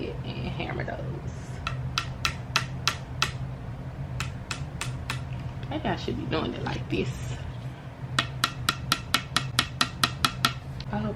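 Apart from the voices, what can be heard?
hammering pieces into IKEA Billy bookcase sides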